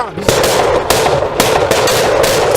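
Rapid, loud gunfire rings out in a police shootout between NYPD officers and an armed suspect, a dense burst of close shots with sharp repeated cracks over a couple of seconds.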